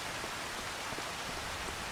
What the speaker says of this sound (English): I should just wait till the rain stops